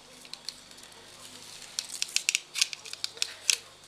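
Scissors snip repeatedly through a thin strip of crepe paper for making wheat ears, a run of quick close crisp cuts that begins quietly and grows denser and louder, with no talking.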